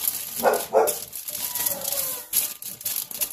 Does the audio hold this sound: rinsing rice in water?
no